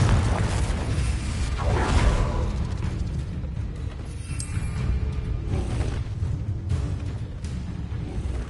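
Confringo blasting spell in the video game Hogwarts Legacy on PS5, bursting into a deep booming explosion that rumbles on through a long, loud tail of low roar and debris noise.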